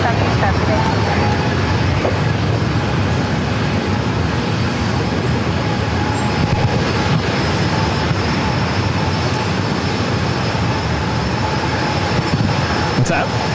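Airbus A321 bound for Salt Lake City taking off down runway 27 at San Diego airport: a continuous loud engine roar holding steady throughout, with some faint talk mixed underneath.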